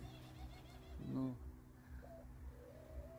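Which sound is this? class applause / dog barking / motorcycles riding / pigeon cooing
pigeon cooing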